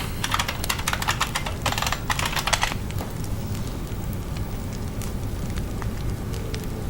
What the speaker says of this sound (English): I use this keyboard